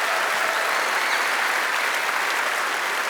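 The crowd at a PAX West panel for The Witcher's tenth anniversary breaks into loud, continuous applause, a thick wash of clapping that fills the hall.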